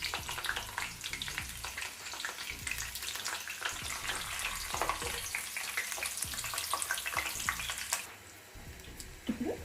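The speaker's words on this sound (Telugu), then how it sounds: "ఒక 2 నిమిషాలు వేయించుకోవాలి" Eggplants frying in oil in a pan for a masala vankaya bajji, a steady dense crackling sizzle that runs on with no talk, easing a little near the end.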